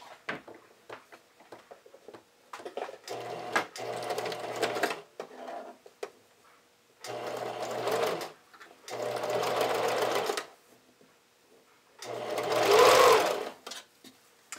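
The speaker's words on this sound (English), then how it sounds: "The elastic's getting attached onto there. I'm gonna use a zigzag stitch." A sewing machine runs a zigzag stitch to attach elastic along the leg edge of a pair of panties, in several separate bursts of steady, close whirring with quiet pauses between them.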